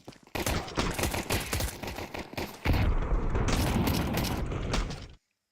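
Rapid gunfire rattles in a Counter-Strike match during a professional esports tournament: fast bursts of automatic shots with mechanical clicks, loud and close, that break off abruptly at the end.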